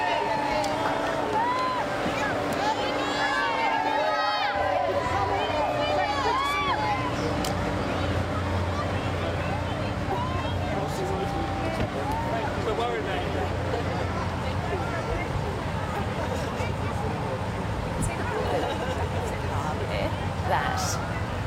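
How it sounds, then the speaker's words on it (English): Large outdoor crowd of tens of thousands cheering during the King and Queen's royal tour in Canberra, a steady loud roar of voices and whistles that continues without pause throughout. "Great cheering here."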